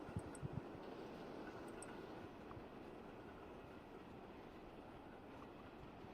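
Trains rumble in the railway video game Transport Fever 2, a faint steady rolling drone with a few light clicks early on and no voices.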